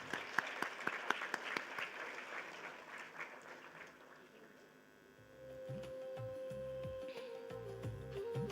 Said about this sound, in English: Have a big round of applause for sir.